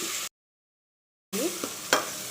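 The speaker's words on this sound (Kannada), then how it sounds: "ಚೆನ್ನಾಗಿ ಫ್ರೈ ಮಾಡ್ಕೊಳ್ಳೋಣ ಚೆನ್ನಾಗಿ ಮಿಕ್ಸ್ ಮಾಡ್ಕೊಳ್ಳೋಣ ಒಂದು ಐದು ನಿಮಿಷ ಟೊಮೊಟೊ ಬೇಯಲಿ ಒಗ್ಗರಣೆಯಲ್ಲಿ" Tomato frying in a spiced tempering for egg curry is stirred in a pan, with a few short scraping strokes and a faint sizzle after a brief silent gap, quiet and close, with no voices.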